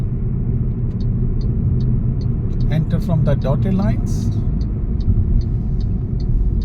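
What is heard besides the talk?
car driving while making a U-turn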